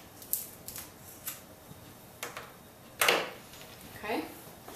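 Scissors snip off the extra at the tip of a dog's ear during ear posting, giving a few short, crisp cuts, one louder crunch among lighter clicks and rustles.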